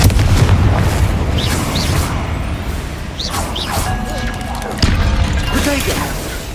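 Hogwarts Legacy Confringo spell blasts boom and crash in quick succession, a loud initial burst followed by another sharp impact later, with chirpy magical effects and a low rumble beneath.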